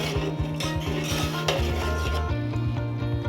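Buttermilk being stirred into ragi batter in a pot on high heat, with a steady run of scraping and knocking strokes against the metal pot, close and continuous with no talk.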